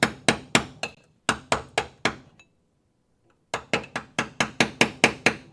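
Sharp metallic hammer blows strike a chisel during a Charger restoration in a workshop, in two quick rapid bursts of about five hits each, then a pause and a longer run of eight steady, loud, close strikes.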